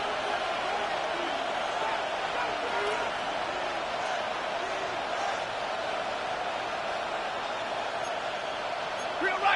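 Steady stadium crowd roar from a Madden NFL football game on PS5, a continuous broad wash of noise holding at an even level through the whole stretch, with no clear words on top.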